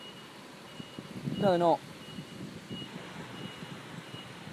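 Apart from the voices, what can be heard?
reversing beeps near level crossing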